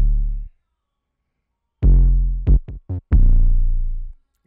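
An 808 bass in an FL Studio hip-hop beat plays alone: deep, booming sub-bass notes, one long hit followed by a few short stuttered hits and a sustained tail, loud and close.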